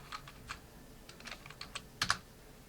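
Light, irregular keystrokes on a computer keyboard, a handful of quiet close clicks that end in a slightly louder double tap.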